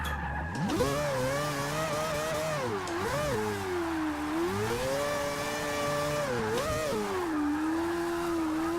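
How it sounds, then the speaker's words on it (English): A Mazda Miata drift build in Forza 6 spins its tires through a long slide, engine revs rising and falling with sustained tire squeal, loud and close throughout, no talking. "I'm just roasting tires. It's just spinning, literally the whole time."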